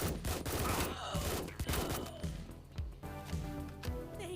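Rapid gunfire from the video game Action Squad, loud bursts of shots and impacts layered over dense game music and effects throughout.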